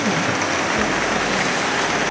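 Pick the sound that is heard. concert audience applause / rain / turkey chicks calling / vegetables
rain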